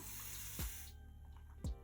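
A continuous fine mist spray bottle releasing a sustained hiss of distilled water for hair care, punctuated by two short pumping clicks as the trigger is pressed, close and fairly quiet.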